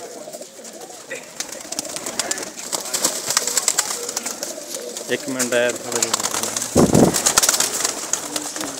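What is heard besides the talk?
pigeons cooing on a rooftop loft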